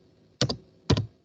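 A few keys pressed on a computer keyboard, heard as two quick pairs of crisp clicks, close and clear against a quiet background.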